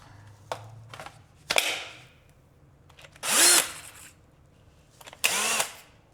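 An 18-volt, 4 amp-hour lithium Ryobi One Plus cordless drill, about twenty years old, whirs in two short bursts indoors, each spinning up and winding down, with a few light clicks and knocks between them.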